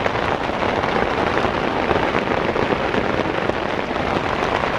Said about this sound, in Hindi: बाहर बहुत ज़्यादा बारिश हो रही है